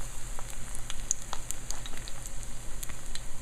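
Soft, close crackling and popping of squash blossoms frying in oil, with a steady low hiss and scattered small spits.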